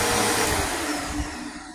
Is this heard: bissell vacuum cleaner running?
yes